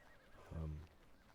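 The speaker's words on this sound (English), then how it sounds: "You might hear horses in the background." A horse neighs once, briefly and faintly, in the background of a swampy dungeon in the game Ark: Mobile during its Halloween event, over a low ambient bed.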